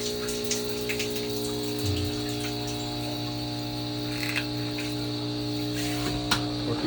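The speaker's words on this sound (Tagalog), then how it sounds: "Gas pump." A gas pump on a biogas water heater runs steadily, giving a constant mechanical hum with tonal bands, joined by a continuous insect-like chirping and a faint trickle of water throughout.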